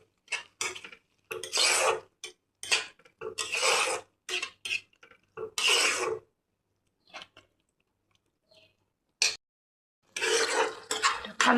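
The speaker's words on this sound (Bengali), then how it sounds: "সসটা দেওয়ার পর ভালোভাবে মিক্স করে নেব" Bursts of stirring and scraping as sauce is mixed into chilli chicken in a pan, coming in uneven strokes separated by short pauses, close and moderately loud.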